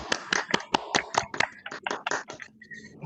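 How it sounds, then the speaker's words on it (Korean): At a church teachers' seminar, a small group applauds the teachers with a few seconds of scattered, uneven handclaps close by that thin out toward the end. "선생님께 박수 드리겠습니다"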